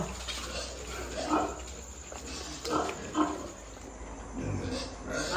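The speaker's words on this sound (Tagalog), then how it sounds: "marami tayong biik ngayon" Pigs and newborn piglets in a farm pen, with intermittent grunts and squeals rising and falling over a low background hum, a few louder bursts near the middle and end.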